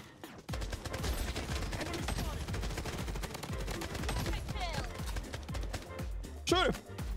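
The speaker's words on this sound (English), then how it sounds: "Shoot him, bro! Give me the M4." Rapid bursts of automatic gunfire and scattered shots crackle through a Blood Strike video game battle set on Alcatraz, dense and continuous under excited voices of players talking over the action.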